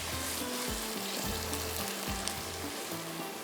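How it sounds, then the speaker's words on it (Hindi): Spices sizzle in a hot pan for kofta rice, a steady bright frying hiss, close and continuous. A metal spoon stirs and scrapes in short repeated strokes, with no talking. "मसाले इसमें जाएंगे और इसकी थोड़ी सी करेंगे भुनाई।"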